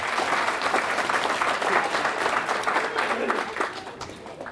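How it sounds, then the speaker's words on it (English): An audience at a St. Patrick's Day Grand Marshal breakfast applauds the piper, a dense, steady round of clapping that holds at full strength for several seconds before easing slightly near the end. "let's give him a big round of applause."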